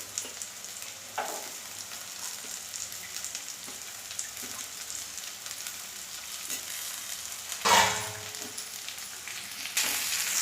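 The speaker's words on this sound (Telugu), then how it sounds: "నూనెలో కొంచెం మగ్గనిస్తాం" Bitter gourd pieces frying in oil in a pan, a steady soft sizzle with a few louder bursts and stirring scrapes, no talk.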